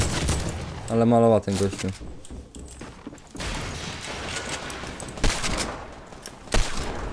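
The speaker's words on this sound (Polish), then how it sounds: "milion osób do mnie strzela" Rapid bursts of gunfire from many players in Fortnite Battle Royale, with loud volleys and scattered shots continuing throughout while someone talks over them.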